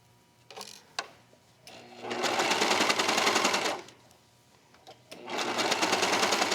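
A sewing machine stitches a tiny thumbhole cuff onto a sleeve, through three layers of fabric, in two steady bursts of rapid whirring separated by a short pause, with faint clicks between runs.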